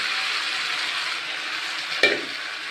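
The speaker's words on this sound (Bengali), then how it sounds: "মশলার সঙ্গে ফুলকপিও কষিয়ে নেব।" Cauliflower fries with spices in a pan, making a steady close hiss and sizzle, with one brief clatter of a utensil against the pan near the end and no talking.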